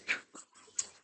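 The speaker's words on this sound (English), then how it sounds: "dog's 4 pounds, and she sounds like a Great Dane" A small four-pound Yorkie barks indoors, two or three sharp yappy barks close by, with quiet gaps between them.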